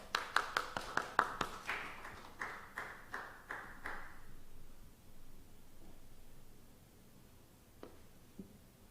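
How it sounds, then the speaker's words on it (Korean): A small church congregation gathered for a lecture welcomes a pastor with faint clapping: a run of distinct, evenly spaced claps for about four seconds, then a few scattered ones in a quiet room. "함께 박수로 맞이해 주시기 바랍니다."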